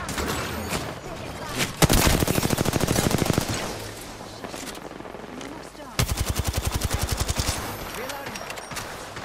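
Rapid automatic gunfire from the video game Apex Legends, two loud sustained bursts of fast repeated shots separated by a quieter stretch, with a voice talking faintly over the game audio.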